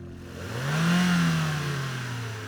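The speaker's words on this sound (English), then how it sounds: "there's someone doing work on a car and they're revving their engine really loud." A car engine revs loudly, its pitch climbing to a strong peak and then easing down while it keeps running at a steady, raised level.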